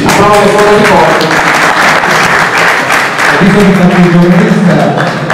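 Applause from an audience at the Premio Tritone award ceremony in Monte di Procida, loud sustained clapping with voices and tonal sounds mixed in throughout.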